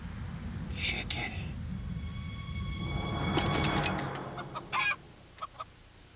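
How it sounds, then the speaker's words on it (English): Chicken clucks and squawks from a Carl's Jr. fast-food commercial airing during a 2005 NFL preseason broadcast, a few short bursts over a low background rumble with a voice nearby. "Chicken."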